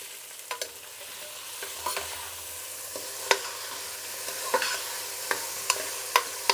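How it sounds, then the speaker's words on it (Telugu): Rice stir-fried with cumin and green chillies for jeera rice: a quiet background sizzle punctuated by regular crisp spatula scrapes against the pan, close by with no speech. "ఒక 2 నిమిషాలు బియ్యం బాగా ఇట్లా వేయించుకున్నామంటే అన్నం పలపలా అనేసి ఉదురుదురుగా వస్తుంది"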